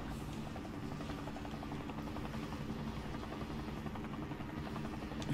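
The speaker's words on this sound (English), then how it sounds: "Helicopter again. Helicopter here." Helicopter in Call of Duty Warzone: a steady, close rotor thrum with rapid rhythmic chopping that holds at even loudness throughout, alone without talk.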